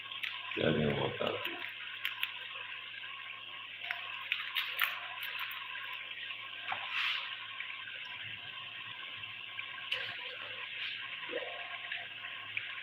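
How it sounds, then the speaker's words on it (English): Water runs steadily into a cooking pot while an African dish is prepared at home, a continuous trickling wash with a louder splash near the start and small clinks of cookware. "Adding water."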